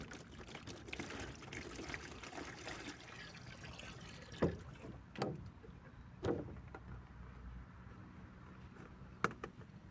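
Water pours and trickles into a bowl for hand-washing clothes without electricity, a soft continuous splashing close by, broken by a few brief knocks and sloshes.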